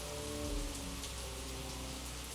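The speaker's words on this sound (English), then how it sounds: "just the falling rain" Steady falling rain in Higurashi When They Cry, a dense continuous patter with a low rumble beneath, unbroken and without voices.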